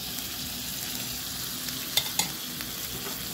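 Leftover rice frying in a pan with a steady, close hiss of sizzling oil, broken by a couple of brief clacks of a utensil stirring.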